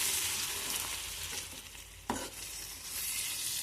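An egg fries and is stirred in a pan, a steady hiss and sizzle broken by a brief scrape of the spatula near the middle. Close and constant, with no voices.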